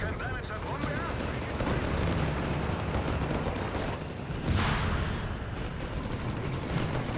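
A Sturmpanzer cannon fires on a Rifle squad in the Company of Heroes strategy game, set in a loud battle soundscape of continuous gunfire and blasts, with a heavy boom standing out midway under ongoing voices.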